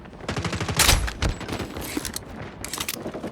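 Sniper rifle and other gunfire in a video game, a rapid, close series of sharp shots and cracks with mechanical clatter, fairly loud throughout.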